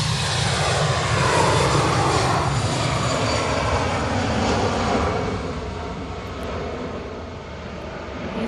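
A jet airliner departs Manchester Airport, its broad engine roar loud and steady before easing slightly toward the end, heard alone with no talk.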